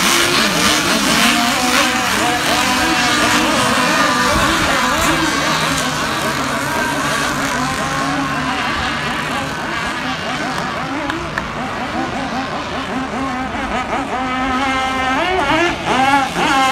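RC racing boat engines scream through a final race at an offshore breakwater course, several high-pitched motors rising and falling in pitch as boats pass, loud and continuous, with a race commentator talking over them.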